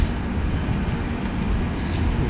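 The Ahalyanagari Superfast train of Southern Railway rumbles past as a steady, broadband roar of wheels and carriages with no break and no voices.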